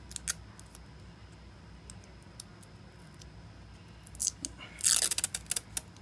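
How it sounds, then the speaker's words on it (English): A sticker peeled off a Dollar Tree greeting card, faint scattered paper ticks and then a brief crisp crackling tear near the end, close and quiet. "Let me see if I can peel this part off."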